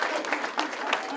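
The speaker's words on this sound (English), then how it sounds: "So give them a round of applause right there" A football team applauds its seniors in the Arizona locker room, a dense, close burst of many hands clapping in a brief, steady stretch.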